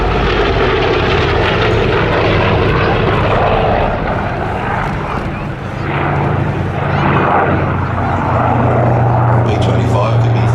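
Propeller aircraft, a North American B-25 bomber or Douglas DC-6 transport at an air show, drone loudly overhead in a steady, powerful rumble, with an announcer talking over the engine noise.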